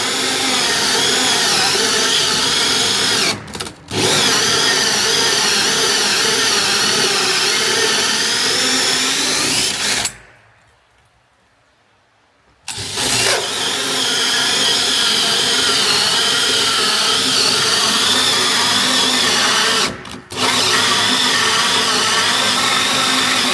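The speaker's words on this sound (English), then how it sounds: "then finish drilling it from the inside to avoid tearing" A power drill whines steadily as it bores through a wooden barrel sauna part, running loud and continuous in long stretches broken by short pauses and one longer stop.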